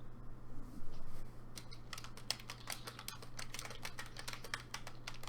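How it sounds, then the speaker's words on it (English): Rapid, steady keystrokes on a computer keyboard, typed into an online chat room during a gaming podcast, clatter continuously over a low electrical hum, with no talking. "What are you typing?"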